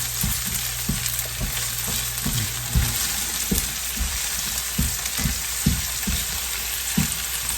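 Vegetables par-cooking in olive oil in a pan for a cauliflower casserole make a loud, continuous sizzle, with regular thumps and scrapes from a utensil stirring through them.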